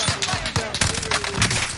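Bursts of rapid automatic gunfire from a video game firefight, several sharp loud volleys in quick succession with a voice talking faintly underneath.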